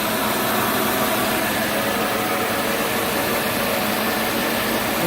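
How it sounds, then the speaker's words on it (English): A Gleason punch and die grinder, a motor driving the wheel by a belt, runs with a steady, loud hum and whirr, unchanging throughout. "so we'll just turn it on. All it is a motor and a belt to drive the wheel."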